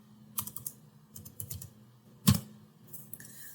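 Computer keyboard keys tapped in a few quick bursts, with one sharper keystroke, as a grep command is typed into a terminal while debugging PCIe; close and fairly quiet, with no talk.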